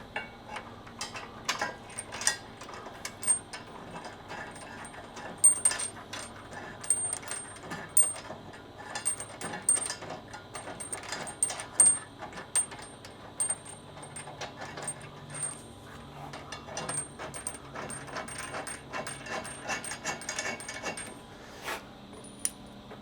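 A flange nut is fitted into a truck frame while installing rock sliders and steps on a Toyota Tundra, giving scattered faint metallic clicks, taps and jingles at an irregular pace, close and quiet, with no talking.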